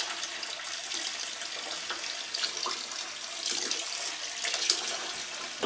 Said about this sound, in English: I'm just going to turn the tap on very briefly to get that to stir around a little bit on its own.